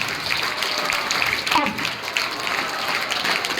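Junior college students clapping as a group during a meditation awareness session, a sustained patter of many hands while a voice talks over it.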